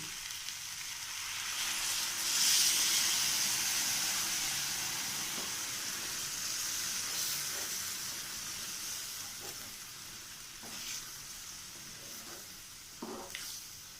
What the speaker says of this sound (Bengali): এবার আমি এর মধ্যে দিয়ে দেবো 1 বাটি দুধ।